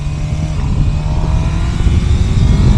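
A Suzuki GSX-R motorcycle is ridden hard, its engine giving a loud, continuous drone mixed with wind rush, close up and steady through the short stretch.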